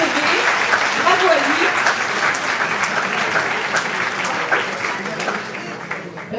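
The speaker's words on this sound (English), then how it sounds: "On l'applaudit bien fort" Applause from a conference audience at IPSA for a young man in a pink IPSA sweater, steady dense clapping lasting throughout at even loudness.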